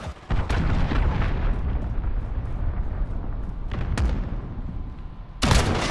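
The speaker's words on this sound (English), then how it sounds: "Allied cruise missile launched." Allied cruise missile strike explosions in Call of Duty: Modern Warfare, heavy booms and rumbling blasts with sharp cracks near the start, around four seconds and near the end, loud and close.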